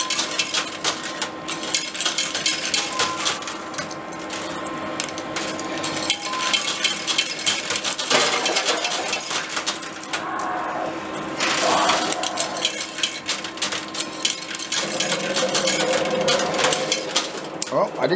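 Arcade coin pusher machine with coins clattering and dropping in dense metallic bursts, continuous busy jingling and tapping, close and loud, with a voice talking over it.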